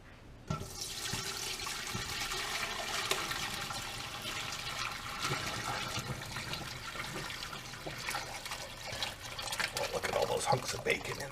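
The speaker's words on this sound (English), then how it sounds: "Let's start by straining all of our" Clam chowder stock being strained, liquid pouring in a steady continuous splashing stream, fairly close, with speech partly over it.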